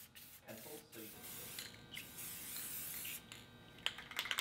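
Aerosol clear coat sprayed from a can onto a metal stairway railing: short, faint hissing bursts separated by pauses, with light rattling and handling noise and a little talking.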